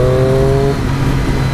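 A Triumph 660S motorcycle engine holds a loud, steady note close by and then shifts in pitch as it is downshifted from around 4000 rpm, all within a brief burst.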